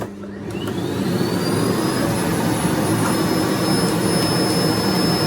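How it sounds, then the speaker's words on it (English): A Miele Blizzard CX1 Comfort Powerline bagless vacuum cleaner runs its filter self-clean. The motor spools up loudly over the first second with a climbing whine, then holds a steady, close roar. "It turns on the Hoover too. So what it's basically doing is the little cogs is flicking out all the dust from the filter"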